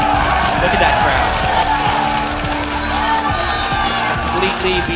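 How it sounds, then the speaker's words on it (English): Crowd cheering and applauding at a League of Legends LCS esports match, a loud, sustained roar of voices from a large audience, with an announcer's voice talking over it. "Look at that crowd"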